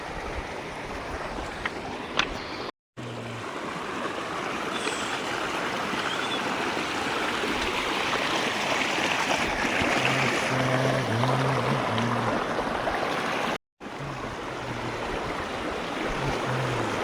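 Flowing river water at the bank of the Deopani river on a cold day, a steady broadband rush that runs unbroken and close throughout, with two brief dropouts and no talking.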